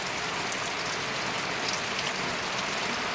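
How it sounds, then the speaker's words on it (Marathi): Steady, dense rain falls continuously, a close even hiss of drops on surfaces with no voices and no pauses. "आज आपलं पोलन करत असतानाच पावसाचं सुरुवात झाली"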